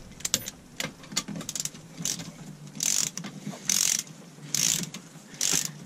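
Ratchet clicking in four distinct bursts as manifold riser bolts are snugged down on a Mercruiser 5.7 marine engine, close and crisp, with quieter mechanical handling sounds between them.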